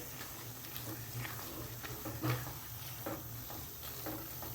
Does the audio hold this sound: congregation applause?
no